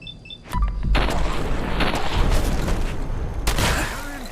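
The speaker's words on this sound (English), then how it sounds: "I like the powerfulness of this shotgun, but I hate the recoil." A heavy shotgun blast booms in Fallout 4, loud and close, with a rumbling tail that fills the air, followed by a second sharp crack about three seconds later.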